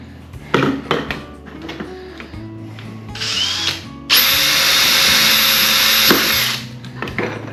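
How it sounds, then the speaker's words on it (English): A power drill bores a small pilot hole in soft PVC pipe for a fishing rod holder, with short bursts and trigger blips and then a loud, steady whine for about two seconds before it winds down, close up. "It's always useful when you're drilling to put a small hole in first"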